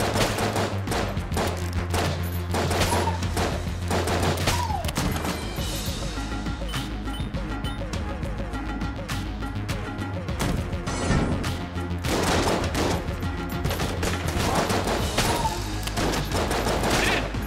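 Gunfire rattles through a session of the roguelike game Enter the Gungeon: loud, dense bursts of rapid shots and crashes that keep going almost without a break, with a short lull in the middle.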